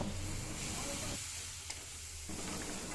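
Onion, a ground spice paste and turmeric sauté in hot oil with a steady, close hiss and sizzle that thins briefly midway, with faint stirring underneath.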